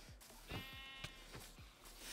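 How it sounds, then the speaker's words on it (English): Sheep bleat in Minecraft, several short, fairly loud bleats in quick succession over faint game background noise. "I'm fighting the sheep, don't worry, I got it."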